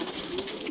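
A brief, soft pigeon coo, low and throaty, heard faintly against quiet background noise.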